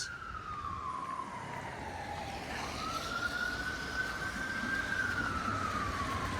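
A police car siren wails along a snowy Toronto street, a single slow rising and falling tone heard at moderate distance over steady traffic and outdoor ambience.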